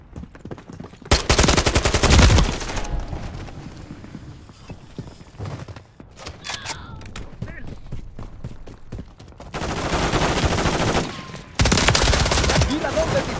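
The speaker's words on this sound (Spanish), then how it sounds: "¡Mira dónde dispara!" Call of Duty MW2 firefight with loud bursts of automatic gunfire in rapid rattling volleys, separated by quieter stretches of scattered shots and clatter, with voices talking in between.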